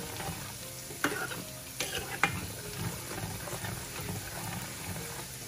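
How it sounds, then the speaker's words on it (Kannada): Mint leaves crackling and frying in hot oil for a homemade hair oil, a dense continuous sizzle up close with a few sharp louder pops and stirring scrapes. "ನೋಡಿ ಇದು ಫ್ರೈ ಆಗ್ತಾ ಇದೆ"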